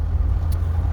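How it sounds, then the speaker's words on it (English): A 2009 Toyota Highlander hybrid coasts and slows, giving a steady low cabin rumble of road and drivetrain noise, close and continuous, with no engine revving. "So right now I remove my foot, and you see the vehicle decreasing speed very slowly"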